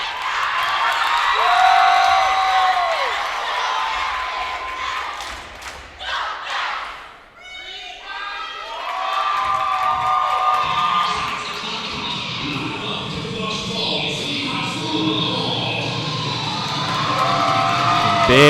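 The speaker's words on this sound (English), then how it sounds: "The crowd is loving this squad" A crowd cheers and screams at a competitive cheer semifinal at Wakefield, a loud sustained roar with whoops and thumps, briefly dipping midway before surging back.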